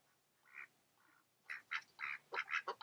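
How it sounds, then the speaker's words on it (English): A male buff duck quacks in a few short bursts, then a quicker run of loud, close, rapid quacks, with no talking. "That's our male buff duck named Bruce Wing."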